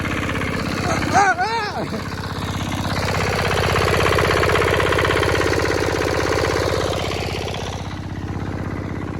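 An engine-driven water pump runs in a farm field, a steady close mechanical drone with a regular throbbing beat that swells slightly mid-way, while a voice speaks briefly near the start.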